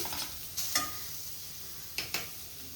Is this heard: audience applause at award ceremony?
no